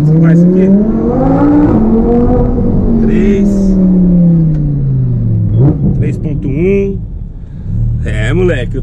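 An Audi R8 in manual mode accelerating hard, its engine note rising in a loud, sustained sweep of climbing revs with a brief dip between gears, while someone speaks over the top.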